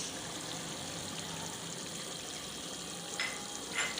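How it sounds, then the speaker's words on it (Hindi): Minced keema fries in oil with cumin and a little water in a pan, giving a steady, even sizzle and hiss throughout, with a couple of slightly sharper crackles near the end and no voices. "कीमा मैं भून रही हूँ।"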